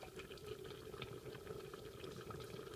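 Quiet steady bubbling of soup simmering in a Morphy Richards soup maker, a soft continuous gurgle with faint pops, no talking.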